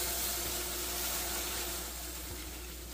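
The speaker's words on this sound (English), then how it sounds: "So we're going to go in with some hot water now." Hot water pours steadily from a faucet or kettle over browned beef bones in a pot, a soft continuous splashing rush that fades slightly toward the end.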